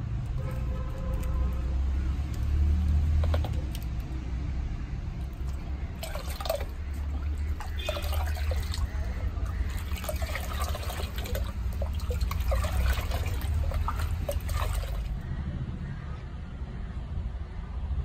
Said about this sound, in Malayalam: നമ്മൾ സോഡിയം കാർബണേറ്റ് കലക്കാൻ പോവാണ്